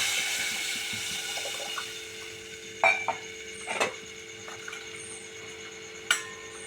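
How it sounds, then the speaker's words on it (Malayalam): Tamarind water poured into fenugreek and asafoetida powder roasting on low heat for a sadya-style puli inji, giving a broad sizzling hiss that fades, with a few light clinks and stirring knocks. "ഇത് മൂത്തയിലോട്ട് പുളിവെള്ളവും ഒഴിക്കുക"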